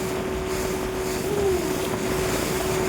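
A small motorboat travels across the sea, its engine giving a steady, continuous drone with a faint tonal hum, heard close and alone over wind and water noise.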